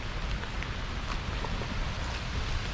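Heavy rain pours at Nooksack Falls, a dense, steady, close hiss that fills the whole moment with no voices.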